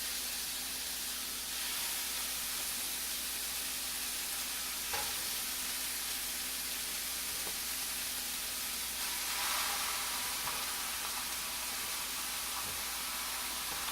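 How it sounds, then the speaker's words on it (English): Over two pounds of ground beef fry in a pan with a steady, close hiss and sizzle, a few soft spoon scrapes breaking through the even crackle, no voices. "We're going to get our meat into the pan."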